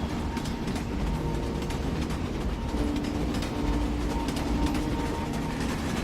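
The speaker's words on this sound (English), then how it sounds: "The train is running through a wide field." A train rumbles along its rails through a wide open field, giving a steady, close, continuous roar with faint rhythmic clatter of the wheels and no talking.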